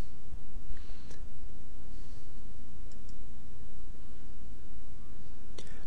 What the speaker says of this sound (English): Now I can right click on it and click delete.